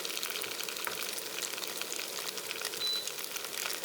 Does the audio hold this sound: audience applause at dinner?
no